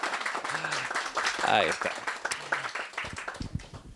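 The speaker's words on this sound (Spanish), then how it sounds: "así que vamos a darle un aplauso" Audience applause at a book presentation, a loose patter of clapping running beneath voices that talk and call out over it, with a brief rising whistle mid-way.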